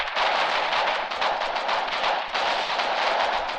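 Dense, continuous gunfire and artillery fire in a large-scale war video game siege, with rapid overlapping shots and booming blasts forming an unbroken loud wall of combat noise throughout, with no voices.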